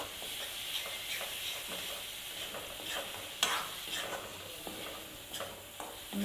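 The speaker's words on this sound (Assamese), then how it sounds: "এতিয়া এইখিনি দি ভালদৰে ভাজিলোঁ" Chicken curry masala frying in ghee in a pan with turmeric and spices, giving a steady close sizzle with scraping stirring strokes and occasional sharp spatula clicks, no voices.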